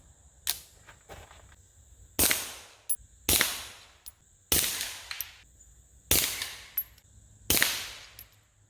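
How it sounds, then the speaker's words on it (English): Five sharp .22 pistol shots from a Ruger Mark IV 22/45 firing Remington Thunderbolt 40-grain solid rounds, spaced about a second apart after a few faint clicks, each crack ringing out briefly at close range with no talking. "Let's shoot some groups. First up, we have the Remington Thunderbolt. This is a 40 grain solid bullet."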